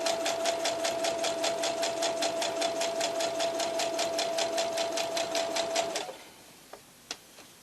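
A sewing machine stitches two fabric pieces together for a baby blanket with a quarter-inch seam, whirring steadily and loudly up close for about six seconds before stopping, followed by a few faint clicks.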